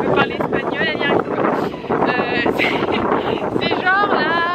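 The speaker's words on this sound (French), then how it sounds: "il y a tellement de vent, je crois, on va même pas m'entendre" Strong wind buffets the microphone outdoors in Fuerteventura, a continuous loud rumble and roar underneath someone talking throughout.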